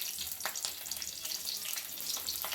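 Green chillies fry in a small amount of oil in a kadai, a soft steady sizzle with faint crackles and pops heard alone at low level.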